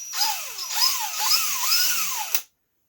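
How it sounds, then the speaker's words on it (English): A small drill bit boring a starter hole in a wooden part of a Zippkits JAE 21FE V2 outrigger kit, whining at high speed with rising and falling pitch as it bites, then stopping abruptly. "The smaller drill is easier to line up and drill the hole, the starter hole"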